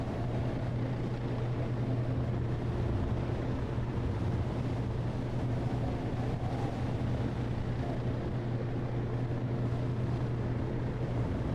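Steamboat engine in the video game 80 Days, a steady low mechanical rumble with a sustained hum, running continuously and evenly throughout with no voices.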